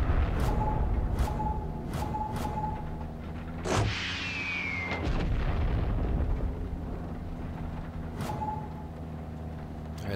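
A tank cannon in Far Cry 6 fires with a sharp heavy boom midway, followed by a whooshing streak and rumbling explosions, set against a constant loud engine drone with repeated short clanking pulses.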